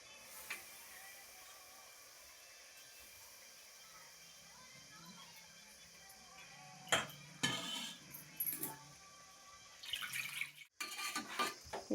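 Duck curry with softened tomatoes is stirred in a pot. Quiet, scattered clinks and scrapes of a utensil against the metal grow into louder bursts of clatter toward the end.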